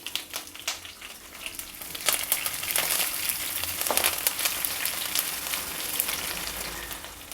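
Curry leaves, green chillies and cumin seeds sizzle in hot oil, a loud continuous hissing fry with sharp spits and crackles, close and steady throughout.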